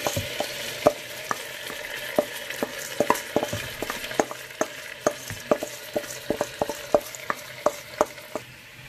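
Rice frying in melted butter in a pan: a soft steady sizzle under regular sharp taps and scrapes of a spoon stirring against the pan, close and fairly quiet, with no talking.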